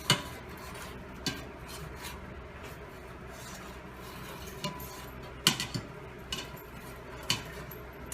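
A spoon stirs sugar and salt into an ice cream base, making a steady, soft scraping swirl with sporadic sharp clicks of metal against the bowl, fairly close and quiet.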